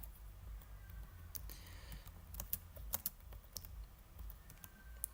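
Keys clack on a computer keyboard in an irregular run of quiet taps and a few sharper clicks, faint and close in a hushed room.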